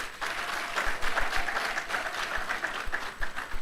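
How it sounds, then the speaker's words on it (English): An audience applauds 68 graduates at the closing ceremony of a public leaders programme, a steady, full round of clapping that holds at an even level for several seconds. "Can we clap for them, please?"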